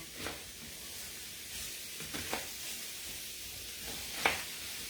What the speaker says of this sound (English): Here's a sizzle. It's actually called the sizzle skillet for that reason.